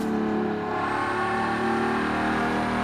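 The Final Fantasy Regalia car in the racing game Forza Horizon 3 accelerates with a steady, loud engine drone and rising whir, continuous throughout with no talking.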